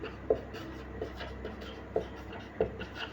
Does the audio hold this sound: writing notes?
yes